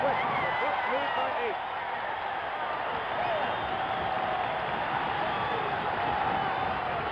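A basketball arena crowd of over 10,000 at a 1972 Lakers at Bucks game, a dense, lo-fi roar of cheering that stays at a constant level beneath steady commentary.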